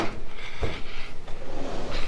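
A drawer in a hotel room slides open and shut in a quick, close wooden rumble with a soft knock, set against steady room noise.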